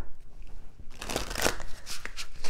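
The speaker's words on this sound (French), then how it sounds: "je vous propose de prendre ici l'oracle de Rumi pour démarrer la guidance avec les cartes" Rumi oracle cards being shuffled by hand during a tarot-style reading, starting quietly and then becoming a close, papery riffle with rapid flicks and shuffles lasting about a second and a half.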